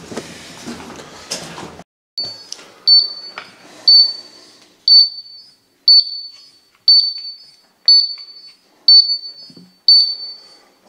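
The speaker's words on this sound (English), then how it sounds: "we can't go any further because we're seeing the oxygen alarm, so not safe to go past here" Oxygen alarm in an underground mine decline, sounding a regular series of about nine sharp, high electronic beeps roughly once per second after a few brief clattering noises.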